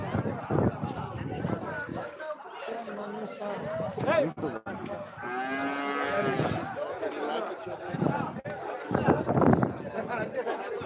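Cattle at a calf market moo among a crowd, one long clear low moo standing out in the middle while people chatter and talk loudly throughout.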